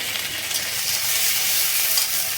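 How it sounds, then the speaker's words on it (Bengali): Ginger-garlic paste frying in hot oil in a pan, a steady close hiss and sizzle with no talking. "এই তেলের উপরে আমি এক চামচ আদা রসুন বাটা দিয়েছি আদা রসুন দিয়েই করতে হবে এখানে মাছ আদা রসুনটা একটু ভালো করে ভেজে নেবো"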